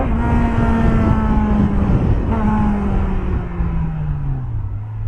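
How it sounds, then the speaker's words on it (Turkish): A BMW S1000XR motorcycle accelerates hard in third gear, its engine whine climbing steadily in pitch, loud and close, with a slight dip partway through. "Tamam, üçüncü vitesteyim. Gazı çekiyorum."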